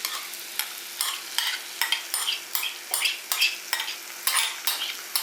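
Ground tomato is stirred in a frying pan for a tomato pickle, a utensil scraping the pan in about a dozen rhythmic strokes over a soft, steady sizzle, close and clear with no talk.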